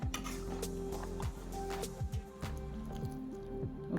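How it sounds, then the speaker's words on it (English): Liquid, a vegetable broth made with giblets, is poured and stirred into turkey dressing with onion and celery, giving soft squishy, dripping sounds and light clinks of a utensil against a pan, close and steady throughout. "I got to add some more liquid"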